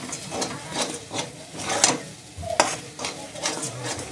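Paneer masala sautéing in a pan with Kashmiri chili powder, stirred in quick repeated scrapes over a steady close sizzle, with no talk.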